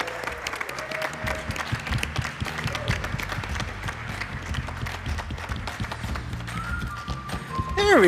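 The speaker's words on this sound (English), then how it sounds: "A big round of applause to Journey." An audience at the NEXT Summit Valletta 2025 conference claps for an award winner, a steady wash of applause that runs throughout, with voices and a few whoops over it and a brief rise near the end.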